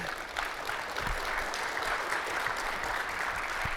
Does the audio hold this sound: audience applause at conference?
yes